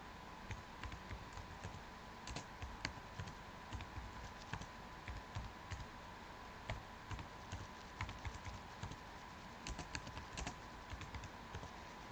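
Typing on a computer keyboard while entering Python code, a steady run of close, crisp key clicks with irregular bursts and short pauses, heard alone without speech.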